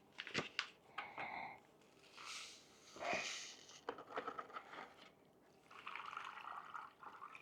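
Water poured into a Canadian Forces ration drink bag of grape flavour, with faint, irregular trickles, splashes and crinkling from close by in a quiet setting.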